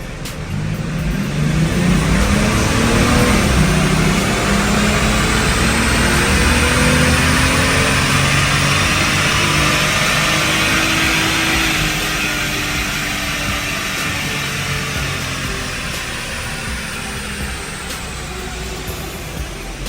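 A stock Toyota JZX100 Chaser's engine roars loud and close on a dyno, rising through a long sustained run with a steady drone before easing slightly toward the end.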